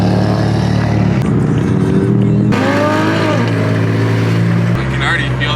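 A BMW with a single-turbo S55 engine runs at full throttle, its exhaust note loud and close, rising in pitch as it accelerates, with a brief shift break partway and people talking over it.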